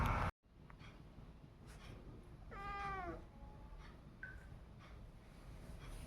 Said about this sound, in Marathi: मांजर आलं, बसलं मांडीवर.